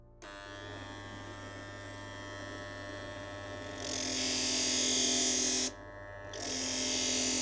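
An 80-grit grinding wheel runs with a steady electric hum, then a brighter hiss rises as a straight knife blade is pressed against it, breaks off briefly, and returns, loud and close with no talking.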